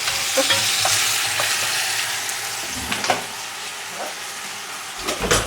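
Fish frying in a pan for a homemade fish soup makes a continuous loud sizzle and hiss, with occasional scrapes and knocks of stirring.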